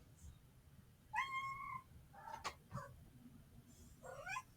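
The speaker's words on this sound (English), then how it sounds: "These cats." Several cats meow in short, clear calls, a few separate mews rising and falling over a quiet room, with a faint voice nearby.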